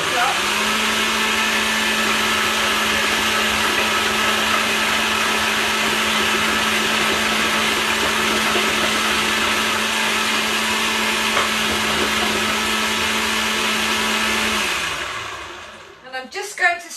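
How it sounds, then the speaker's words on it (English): An electric whisk mixes chocolate cake batter in a bowl, a loud steady motor whine with a buzzing drone held for about fifteen seconds before winding down and stopping, followed by a few soft clatters. "We'll whisk this up."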